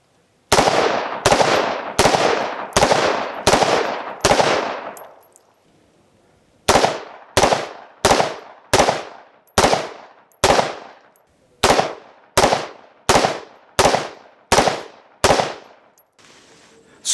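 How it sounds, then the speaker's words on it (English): Rifle shots fire in a multi-target shooting drill: a steady run of six loud, close reports, a brief pause, then twelve more at an even alternating pace, with no talking. "let's do one shot, 6 total shots, 1 shot on each target alternating, and then let's do 3 rounds of that."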